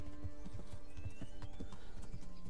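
A tired horse walking on a path near the woods, its hooves clopping in a steady rhythm close by, with occasional neighing and a constant background hum.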